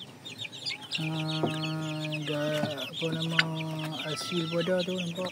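Young chicks, Shamo among them, cheep with rapid high chirps while an adult hen clucks in low repeated bursts nearby, and someone speaks briefly over the flock.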